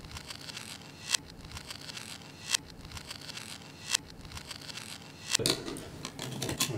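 A fuel tube is cut during an E85 flex-fuel system install: quiet close scraping and rubbing, with four sharp snips spaced about every second and a half, then louder handling noise.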